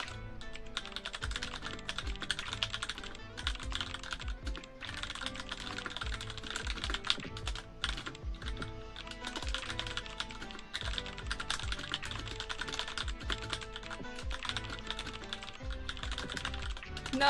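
Fast, continuous typing on a computer keyboard during a typing test, a dense patter of key clicks with brief pauses, close and steady throughout.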